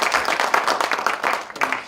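Audience applause fills the room: dense, steady clapping from a sizeable group, loud and close, lasting under two seconds.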